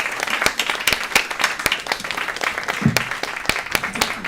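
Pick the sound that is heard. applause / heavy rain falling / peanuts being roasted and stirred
applause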